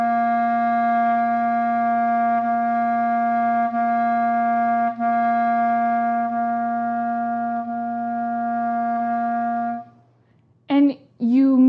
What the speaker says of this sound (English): then you can actually play your chalumeau C and try